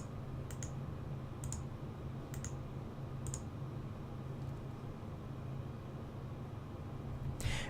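Four evenly spaced, crisp computer mouse clicks over a low steady hum, with one more click near the end.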